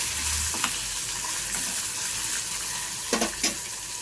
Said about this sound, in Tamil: 4 மிளகா, ஒரு நெல்லிக்காய் சைஸ் புளி, தேங்காய் நல்லா வதக்கிக்கோங்க.